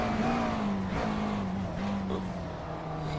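A race car engine at full throttle drones steadily on the Sebring circuit in an IMSA racing video game, a close, continuous whine that shifts pitch slightly as the car powers through a right-hand bend.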